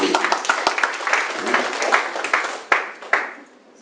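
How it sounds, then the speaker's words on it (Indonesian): Audience clapping at a campaign vision-and-mission presentation, a dense patter of hands with sharper claps standing out near the end, fairly close and moderately loud. "Tepuk tangan dong kalau kita benar."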